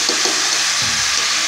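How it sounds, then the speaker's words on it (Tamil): Food sautéing in oil with salt in a pan on the stove, a loud, close, steady sizzle with a couple of soft stirring scrapes, no voices. "இப்படி நல்லா கிண்டி இந்த எண்ணெயிலேயே கொஞ்சம் நேரம் இப்படி கிண்டி விட்டு வதங்கட்டும்"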